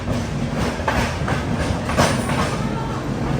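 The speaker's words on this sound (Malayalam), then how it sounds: "സൂറത്ത് റെയിൽവേ സ്റ്റേഷനിലേക്ക് ഇതാ നമ്മുടെ ട്രെയിൻ എത്തുകയാണ്" An AC Express train rolls into Surat railway station with a steady low rumble and rhythmic clickety-clack of wheels over rail joints, heard from inside a coach, loud and continuous.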